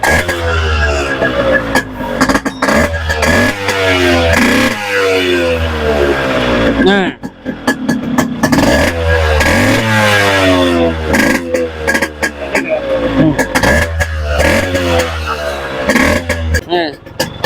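A Yamaha RX motorcycle engine, fully serviced and shown for sale, revs loud and close again and again. Its pitch sweeps up and down in quick, sharp bursts with brief dips between them.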